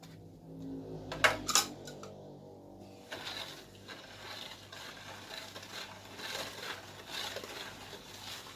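Homemade dishwashing liquid ingredients, including salt or thickening powder, stirred together in a container, starting with a couple of sharp clinks and then continuing as soft swishing and scraping, close and quiet.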